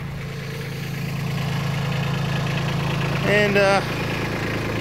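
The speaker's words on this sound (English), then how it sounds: "115 hours on the Kubota, it's running good" A Kubota B2601 compact tractor engine idles with a steady low rumble throughout, close and even, while a voice speaks briefly near the end.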